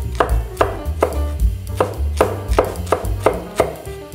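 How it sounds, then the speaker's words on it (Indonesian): A knife chops pineapple on a cutting board in a quick, steady rhythm of about ten firm, close thuds, with no voices. "Untuk nanasnya kita potong-potong."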